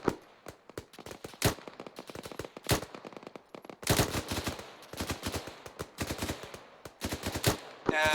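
L85 rifles firing during suppression training, a dense stream of sharp, loud shots in irregular bursts and single cracks, overlapping at times into rapid volleys with brief gaps between.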